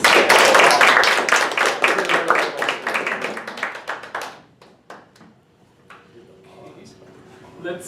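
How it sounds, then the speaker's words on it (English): A small Toastmasters meeting room fills with brisk clapping that thins to a few scattered claps and then stops, leaving faint room noise and light murmuring. "I want to give you a round of applause."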